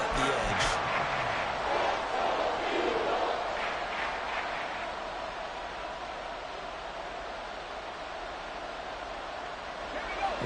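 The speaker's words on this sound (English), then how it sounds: "This crowd turning up the decibel level" An NFL stadium crowd at a Steelers game roars on a third-and-long play, a loud, sustained wash of noise that swells at the start and holds steady beneath a commentator's voice.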